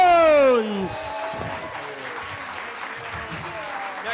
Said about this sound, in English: Come on. Thunderous applause.